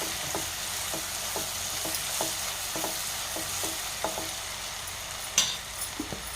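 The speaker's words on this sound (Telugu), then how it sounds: "అల్లం వెల్లిపాయ పేస్టు పచ్చివాసన పోయి మంచి స్మెల్ ఉంటుంది అన్నమాట. చక్కగా వేగాలి ఇలాగా." Ginger garlic paste frying in hot oil for a cauliflower curry, a steady close sizzle broken by regular scrapes and clicks of a spoon stirring the pan, with one sharper clatter near the end.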